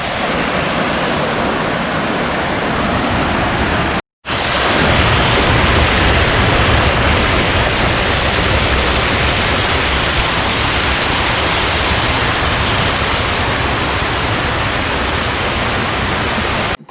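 Loud, steady rushing water just above Dhoni waterfall in Palakkad, Kerala, a dense unbroken roar that fills the air from close by, with one brief cut-out early on.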